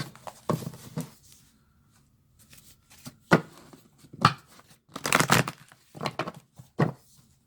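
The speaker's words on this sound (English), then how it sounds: "So I could shuffle these a couple times in front of you guys." Tarot cards riffled and shuffled in several quick bursts, crisp papery flutters separated by short pauses, close by with no talking.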